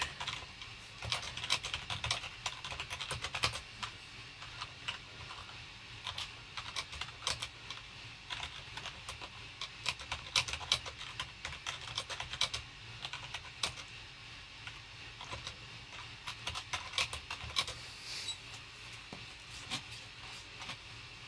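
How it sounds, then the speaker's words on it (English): Fingers tap on a computer keyboard in quiet, irregular bursts of clicks that run throughout, fairly faint and close, with no talking. "I'll type it in the chat here."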